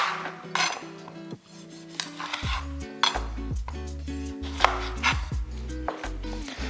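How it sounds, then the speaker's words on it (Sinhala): Cherry tomatoes being cut on a board for a basil pesto pasta salad, a run of close knife taps and clinks of kitchenware with tonal background music, no talking. "ඊට මම මේ වගේ මේ චෙරි ටොමැටෝ එක ඉස්සෙල්ලා මම මේ විදියට වෙන් කරගන්නවා."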